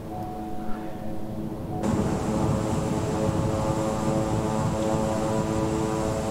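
Simulated King Air 350i turboprop engines in Microsoft Flight Simulator, a steady hum and drone that jumps abruptly louder and brighter as the throttle comes up, then holds a sustained roar with no speech.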